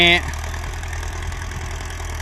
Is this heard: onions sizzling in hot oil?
no